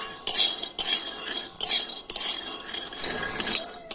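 Peanuts roast dry in a pan while a spoon stirs them, making sharp, scraping rattles in repeated bursts with brief gaps, close and clear.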